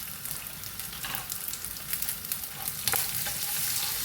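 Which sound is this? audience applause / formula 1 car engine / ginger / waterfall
ginger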